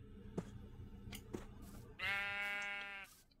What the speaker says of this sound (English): What are you doing over here, sheep?